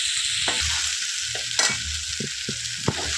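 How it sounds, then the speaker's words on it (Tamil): Chicken curry sizzling and frying in a pan, stirred with a spoon in a few separate scrapes and clatters over a steady hiss, close up with nobody talking. "கிளறி விடுங்க."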